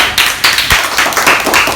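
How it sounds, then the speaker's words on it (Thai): Students in a rural Thai school classroom clap together for the first team, a brisk burst of hand claps repeating in quick rhythm, loud and close. "ปรบมือให้ทีมที่หนึ่ง"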